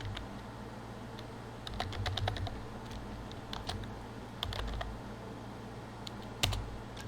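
A computer keyboard is typed on while building an app in Android Studio, giving clustered runs of crisp key taps with short gaps between them, close and moderately loud, with no voices.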